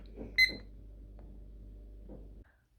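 A single short, high electronic beep rings out from a kitchen timer amid faint clicks and quiet background hum.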